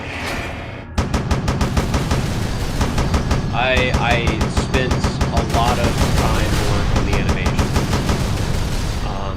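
Vehicle turret in a video game firing rapid, evenly spaced bursts of automatic fire after a short pause, loud and continuous, with someone talking over the shots.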